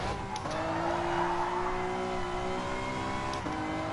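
A race car in a PS4 driving game brakes and downshifts, its engine note dropping sharply in steps with brief tire noise, then holding a steady droning whine.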